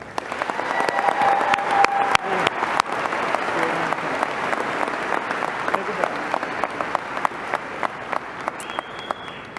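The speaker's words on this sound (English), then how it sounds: "Please give them a round of applause" A crowd at a high school graduation ceremony breaks into sustained applause, a full, even roar of clapping with a few sharp individual claps standing out as it slowly thins toward the end.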